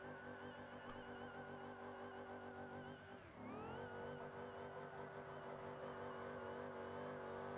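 Gavril Kodiak truck in a video game doing burnouts in a parking lot, a steady loud engine drone with tire squeal, briefly dipping and sweeping in pitch mid-clip before resuming at full roar.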